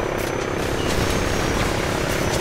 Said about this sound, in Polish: Dobra, helikopter.